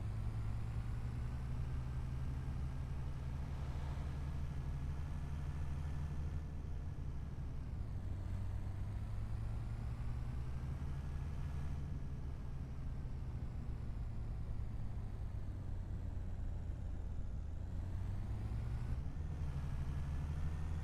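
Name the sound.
truck engine driving in video game Farming Simulator 25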